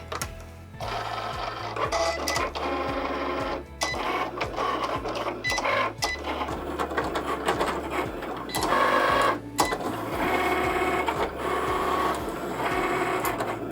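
Cricut cutting machine slicing an infusible ink design, its motor whirring in repeated rising and falling mechanical passes with a steady low hum and rhythmic clicking, loud and close with no talk.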